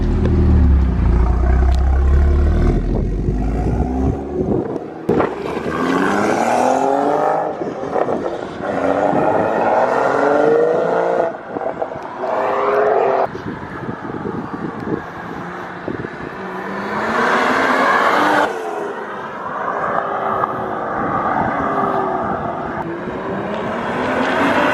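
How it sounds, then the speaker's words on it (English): BMW M235i F22 with an N55 engine, aftermarket downpipe and M Performance exhaust, roaring loudly through revs and gear changes for about twenty seconds, with a deep, steady drone and wind rush. "The M Performance exhaust sounds insane on this."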